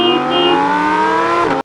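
A cartoon vehicle drives off, heard as one loud engine tone that holds and rises slightly, then cuts off abruptly near the end.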